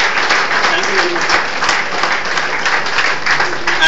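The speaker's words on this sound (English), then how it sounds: "please give a round of applause for management" An audience at a speech event claps in steady applause, a dense continuous patter from many hands, fairly loud and close, lasting the whole moment.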